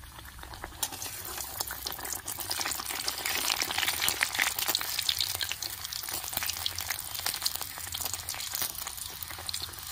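Luchi frying in hot oil in a wok gives a soft, steady bubbling sizzle with a fine crackle that swells slightly around the middle and stays low and close throughout.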